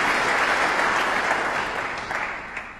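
A large snooker crowd at the Grimsby Auditorium breaks into sustained applause, a loud, even wash of clapping that slowly tapers off toward the end.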